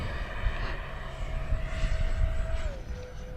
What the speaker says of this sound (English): There we go, taking off, power's coming in.